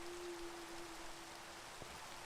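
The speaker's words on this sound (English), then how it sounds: "Of course, it rains." Steady rain falls in the Minecraft game world, a continuous even hiss of rainfall with a faint low tone running through the first part and a brief soft knock near the end.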